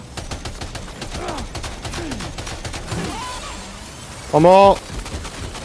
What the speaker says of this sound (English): I need another gun, because I am running out. Yes, another machine gun.